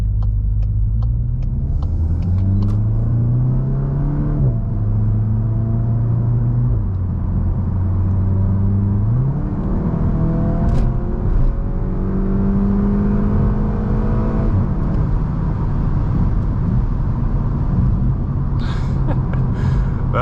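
A Volkswagen MK8 GTI pulls away in S mode, its engine note climbing steadily through the gears with clear shift steps, a continuous close-up rumble from inside the cabin with no talking.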